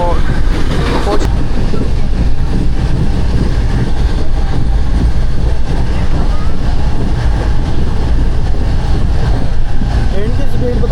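The Pak Business Express passenger train runs from Karachi to Lahore with a loud, continuous rumble and clatter heard from inside a carriage, while people talk over it.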